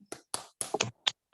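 At an Indonesian Islamic elementary school, SDIT Nurrohman, children clap a rhythmic 'tepuk semangat' cheer: about six crisp, close hand claps in a quick, uneven pattern, with no talking.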